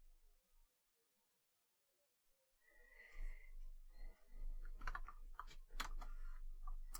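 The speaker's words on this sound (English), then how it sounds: "I'm typing on the wrong page again" Rapid irregular clicking of computer keys as someone types on a keyboard, near and fairly loud, starting after a quiet opening and continuing in busy bursts to the end.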